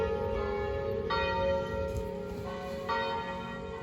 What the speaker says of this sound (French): T'entends, il y a les cloches, c'est l'heure d'aller à la messe.